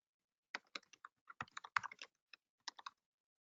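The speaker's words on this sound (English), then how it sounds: "I'm typing this one live." Typing on a computer keyboard, a close, quiet run of irregular key clicks in short clusters with brief pauses, heard alone against silence.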